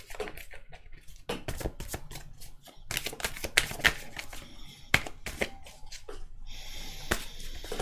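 Oracle cards shuffled by hand in a run of quick, crisp riffles and flutters, close and fairly quiet, with short pauses between bursts and no talking.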